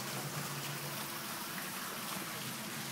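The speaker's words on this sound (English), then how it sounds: "this is the hot tub with the waterfall" Water pouring from the waterfall of an indoor-outdoor hot tub at an inn, a steady broadband rushing splash, fairly faint and continuous, with no talk.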